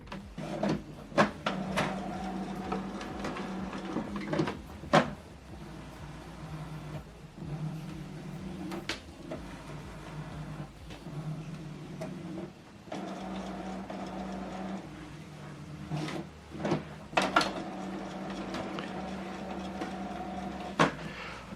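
An Epson WF-2910DWF inkjet printer preparing during setup, whirring and clunking with repeated motor runs, sharp mechanical clicks and carriage movements over about twenty seconds, close and moderately loud with no talking.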